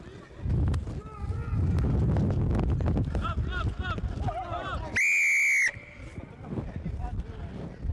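A referee's whistle at a youth under-19 rugby league match sounds one loud sustained shrill blast lasting under a second, following busy crowd and player shouting on the pitch.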